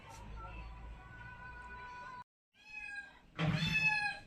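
A cat gives a long drawn-out meow, falls silent briefly, then lets out a shorter soft meow and a louder rising cry, close to the microphone in a quiet room.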